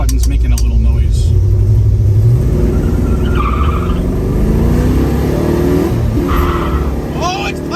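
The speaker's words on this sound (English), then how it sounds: "You gotta love these 351s backing up on a Hurst 4-speed shifter." A 1970 Ford Mustang Mach 1 with a 351 V8 and Hurst 4-speed shifter drives and accelerates, its loud engine rumbling and rising in pitch as revs climb, with excited talking over it.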